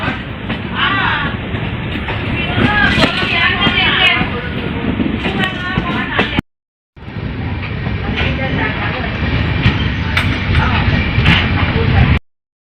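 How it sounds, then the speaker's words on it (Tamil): Passenger train 06340 from Nagercoil Junction to CSMT rolls along the rails with a loud, steady rumble and rattle heard from on board. Voices sound over the noise, and the sound drops out briefly midway. "டைம் ஆன் த டைமில் ட்ரெயின் போயிட்டு இருக்குது."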